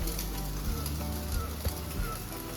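Precooked vermicelli hitting a hot pan makes a loud, steady sizzle and crackle of frying, continuous and close, with faint stirring scrapes and no talking.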